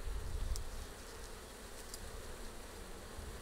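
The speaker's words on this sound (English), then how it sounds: "Opening the box, we can see a lot of bees in the lid" Honey bees swarm a freshly opened hive box with many clustered in the lid, giving a steady, dense buzzing drone that stays close and even throughout, slightly louder at the start.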